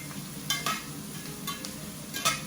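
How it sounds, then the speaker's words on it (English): A stainless spoon stirs vegetables with garlic in a hot pan for keto eggplant lasagna, steady sizzling frying under a few distinct metallic scrapes and clinks against the pan. "And you're just going to stir them around."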